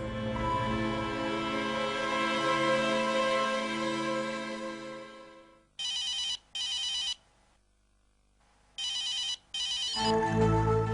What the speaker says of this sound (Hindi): देखो किसी का फोन आ रहा है